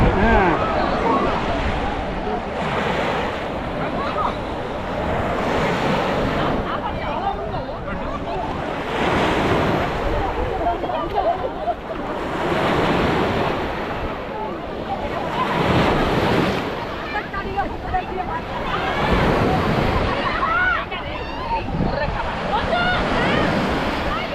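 Sea waves at Rameswaram surge and break in a slow, repeating rhythm, each swell rising loud then ebbing, with heavy wind buffeting the microphone and occasional voices faintly under the roar.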